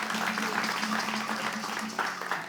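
Applause for a rapper on a French semi-final show, a steady wash of clapping from the studio crowd, with a low sustained tone humming beneath it and a few voices in the mix.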